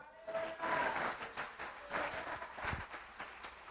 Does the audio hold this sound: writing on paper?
no